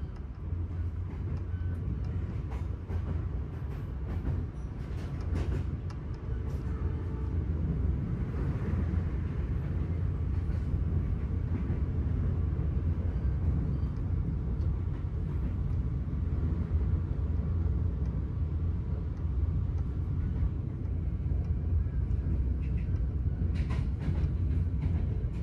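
Brantas economy passenger train running on rails after leaving Jatibarang station in Indonesia, heard from inside the carriage as a continuous heavy rumble with rhythmic clatter and occasional higher rattles, steady and loud throughout.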